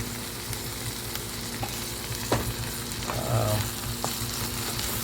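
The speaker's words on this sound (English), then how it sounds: "Let it cook in medium high, like this, and fry it in medium high" Shrimp fry in a pan over medium-high heat, giving a constant close sizzle with a few brief clinks and stirring sounds and no voices.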